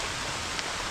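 Rain falling on a farm, a steady close hiss of drops with one brief sharper patter, continuous and without voices.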